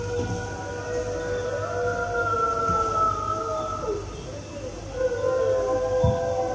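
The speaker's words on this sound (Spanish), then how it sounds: "Aúlla el alfa" A wolf pack howls on an autumn night in the mountains, with several long, wavering, overlapping howls rising and falling together, steady and fairly loud against a constant background hiss.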